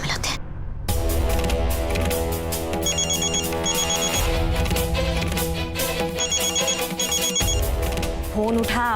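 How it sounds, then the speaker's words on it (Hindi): A telephone rings in repeated electronic bursts over loud dramatic music, the trilling pattern recurring several times. "फोन उठाओ।"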